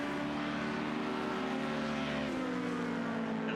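A naturally aspirated V8 race car engine drones steadily at high revs, a continuous harmonic roar that holds level throughout with a slight pitch dip near the end, at an endurance race.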